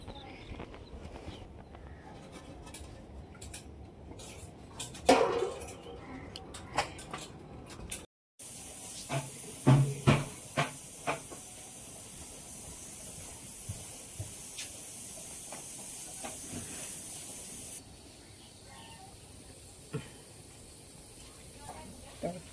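Oil sizzling in a pan while chole is cooked in a home kitchen: a low, steady hiss that continues throughout, with people talking faintly nearby.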